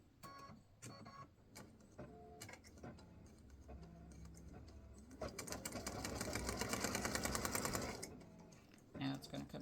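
A Par-brand embroidery machine stitches a star design onto a Father's Day greeting card, its rapid mechanical needle chatter swelling louder and denser midway, with scattered clicks and voice nearby.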